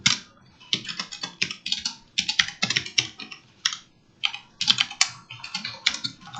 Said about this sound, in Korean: 띄어쓰기를 좀 많이 하고 A 입력하고 쉼표 쓰고요